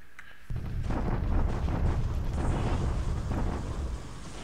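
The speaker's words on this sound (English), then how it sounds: "He's bombarding me up there." A sustained rumbling roar of bombardment explosions in the War in the Pacific strategy game, a low booming wash that swells in abruptly and rolls on steadily, loud and without speech.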